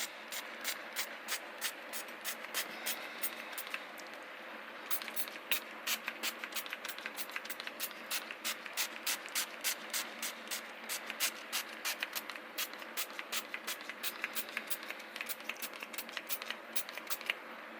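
A spray bottle mists a glue mix of isopropyl alcohol, water and matte medium over a model diorama terrain, giving rapid repeated short hissing pumps in quick bursts, briefly pausing before resuming at a steady rhythm.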